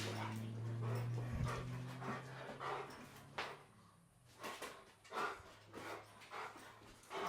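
A dog with a stumpy tail mouths and tugs at its Kong toy nearby, with soft chewing, pants and small rustling knocks coming in irregular bursts.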